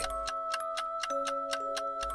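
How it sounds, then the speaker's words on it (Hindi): A clock ticks steadily in a quiet room at night, with regular sharp ticks about every quarter second over a faint sustained tone, no voices present. "घड़ी में 9 बजने ही वाले थे।"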